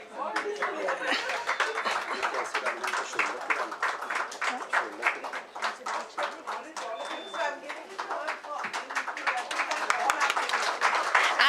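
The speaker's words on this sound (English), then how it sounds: "I think we can have a louder round of applause" An audience claps at the launch of a robot-assisted surgery program at Apollo Spectra Hospital. The rhythmic applause runs on for over ten seconds, with scattered chuckles and some talk mixed in.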